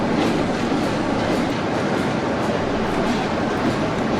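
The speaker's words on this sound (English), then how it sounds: "The 47 runs around the train to allow the Black 5 to reverse in and couple up" Rail cars roll by close and loud with a steady rumbling rhythm of wheels on track as a Class 47 diesel locomotive runs around the train, no voices.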